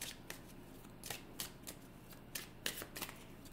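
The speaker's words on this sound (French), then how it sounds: "Je vais prendre juste une carte pour commencer." Cards are handled and one is drawn from a deck, producing a series of quiet, close, sharp riffling snaps and soft slides in an irregular rhythm.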